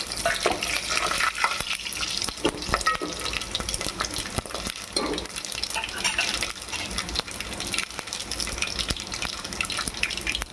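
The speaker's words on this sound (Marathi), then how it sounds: "थोडं लसूण गोल्डन ब्राऊन झालं की हे जिरं राई आणि लाल मिरची हे घालून घ्यायची आहे" Cumin, mustard seeds and red chili sizzling with golden garlic in hot oil, a dense, continuous crackling fry with stirring scrapes, close and loud, without talk.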